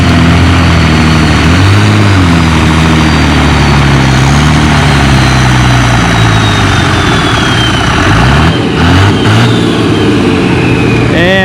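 An Oliver 1800 tractor hauls a 7,000-pound sled at a tractor pull, its heavy engine roaring loud and close with rising and falling revs, steady throughout with a brief dip near the end.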